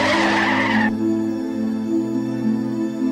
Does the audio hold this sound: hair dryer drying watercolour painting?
no